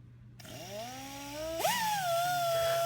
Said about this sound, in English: We're going to use the 2-inch pneumatic polisher.